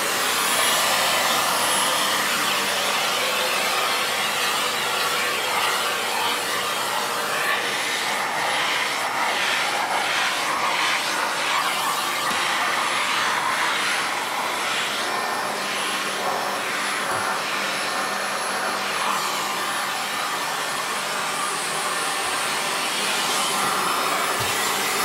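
A Dyson DC25 multi floor bagless upright vacuum cleaner runs continuously with its hose suction working on stairs indoors, a loud, steady, high whooshing drone that barely changes across the whole stretch.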